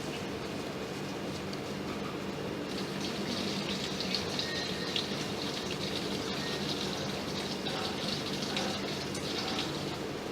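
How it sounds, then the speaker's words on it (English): Water pours into a handmade water transporter container through its open cap, a soft, steady rushing and splashing that runs throughout at low volume, with faint higher trickling tones. "We have a cap which can be opened to fill water into the water transporter."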